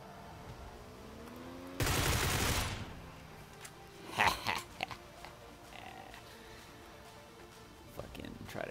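Video-game gunfire during a bike ride: a loud burst of rapid shots followed by scattered single pops and cracks, with a voice talking faintly between them.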